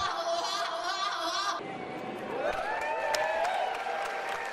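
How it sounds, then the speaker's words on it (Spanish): Audience applause mixed with crowd chatter and some cheering after a singing performance; steady clapping for the first moments, then thinning into murmuring and scattered voices, moderately loud. "lo realmente inquietante en este video fueron los aplausos de la gente al final"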